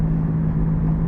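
A steady low hum and whir from a moving car with a worn wheel bearing, droning evenly with road rumble underneath, no talking.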